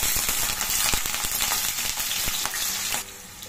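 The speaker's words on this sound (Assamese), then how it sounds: "মই তেল গৰম হৈ গ'ল ইয়াতে দিলোঁ আলু" Potatoes drop into hot oil in a pan and fry with a loud, dense, continuous sizzle and crackle that drops back to a softer hiss near the end.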